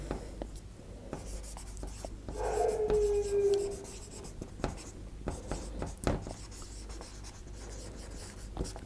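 A marker or pen writes on a board in short, squeaky strokes with a brief sustained squeal near the middle, set among light tapping and handling sounds in a quiet room.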